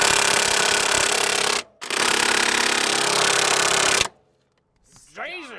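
Ratchet wrench with a larger socket straining against a stubborn ball joint on a Crown Victoria, a dense loud grinding buzz for about four seconds broken by one brief pause, then stopping, followed by a short spoken exclamation.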